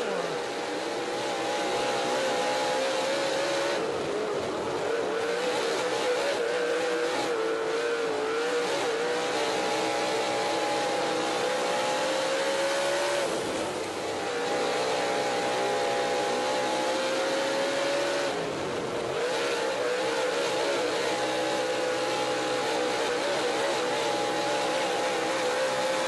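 Dirt track race cars pulling away in a heat race roar in a sustained, droning engine note with rising and falling pitch, heard from a distance along with a faint announcer's voice.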